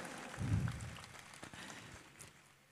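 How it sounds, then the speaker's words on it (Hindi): Faint, distant applause from an audience at a public gathering in Sadalpur, a soft wash of clapping that swells briefly near the start, then thins out. "अनिल जी के लिए एक बार जोरदार तालियां हो जाए।"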